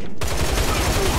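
Rapid pellet gun fire in the video game Line of Sight, a quick burst of rattling shots repeating in a fast, even rhythm over a short stretch, loud and close.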